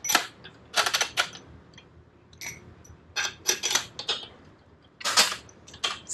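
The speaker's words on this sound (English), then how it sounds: "So, let's put the diesel bolts in." Diesel bolts being fitted into a 12mm tapped engine block through a gasket, heard as a series of close, sharp metallic clicks and rattles in irregular bursts.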